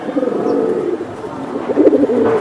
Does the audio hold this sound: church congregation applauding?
no